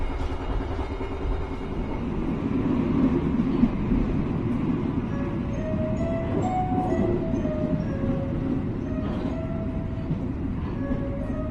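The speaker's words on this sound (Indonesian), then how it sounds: "sesaat lagi kereta api Serayu akan tiba dan berhenti di stasiun Gandrung Mangun." Serayu passenger train pulling into a station: a steady, loud rumble of rolling cars with wheel and brake squeals rising and falling, heard from on board and without speech.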